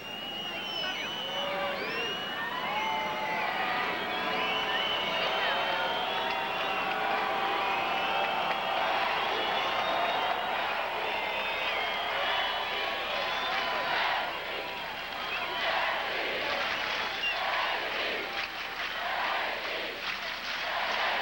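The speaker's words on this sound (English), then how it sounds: "the crowd cheering and hooting throughout most of the match" A large tennis crowd at the 1999 French Open final between Graf and Hingis cheers and hoots continuously, a dense sustained roar of voices and whistles that swells and stays loud throughout.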